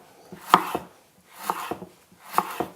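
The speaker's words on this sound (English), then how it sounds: "And then we're just going to cut the capsicum in slices." A knife slicing capsicum on a cutting board in three quick bursts, each a cluster of crisp crunchy cuts and board knocks separated by brief pauses, close and clear with no talk.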